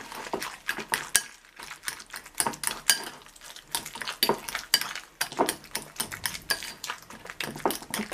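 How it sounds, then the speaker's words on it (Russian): Brisk, rhythmic scraping and clinking as a utensil stirs pancake batter in a bowl, continuous and close, with no talking. "Просто все это перемешиваем."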